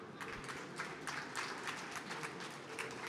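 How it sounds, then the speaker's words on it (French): An audience applauds at a public talk with a steady, fairly soft patter of many hands clapping together, continuous throughout with small rises in intensity and no voices standing out. "On peut applaudir."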